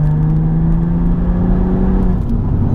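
A BMW M135i with the N55 twin-scroll turbo straight-six pulls hard in fourth gear, a loud, close, steady engine drone with a rising whir held for the whole moment.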